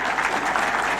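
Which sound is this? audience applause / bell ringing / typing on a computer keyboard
audience applause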